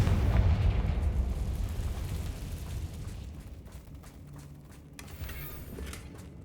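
A Confringo blasting spell from the Hogwarts Legacy video game goes off in a loud, close explosion with a heavy low rumble that slowly fades over several seconds, and a smaller crackle comes near the end.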